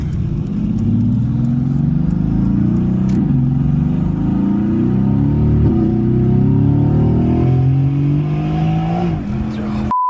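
A Mercedes-AMG GT S engine revs loudly and steadily, its pitch rising and falling, with a continuous roar throughout and a faint squeal of tires breaking traction near the end.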